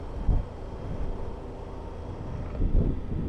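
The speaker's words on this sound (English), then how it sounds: "Wow, it's pretty windy this side" Low, rumbling wind buffeting a microphone outdoors in Tipperary, Ireland, steady throughout with stronger gusts near the start and end.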